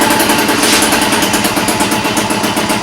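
The small engine of a Honda Dio scooter that is being repaired for intermittent running and stalling. It runs steadily and loudly close up, with a rapid buzzing putter and no voices.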